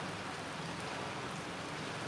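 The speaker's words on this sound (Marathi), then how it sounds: "तिकडे पाऊस आहे" Steady, soft rain hisses evenly throughout in Virar, India, faint and continuous with no other sounds.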